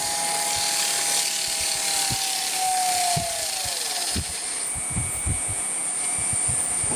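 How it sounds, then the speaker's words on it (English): Sandpaper is pressed against the spinning shaft of a 0.75 kW Mechtric three-phase motor, giving a steady abrasive hiss over the motor's whine as it falls in pitch, with scattered knocks. "Sandpaper on that shaft."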